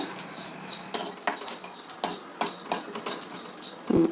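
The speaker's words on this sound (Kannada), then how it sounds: "ಸಣ್ಣ ಫ್ಲೇಮ್ ಇಟ್ಕೊಂಡು ಹುರಿಬೇಕು ಧನಿಯಾನ" Coriander seeds dry roasting in a pan over a low flame, heard as repeated clinks and scrapes of a spoon stirring against the metal, with no voices.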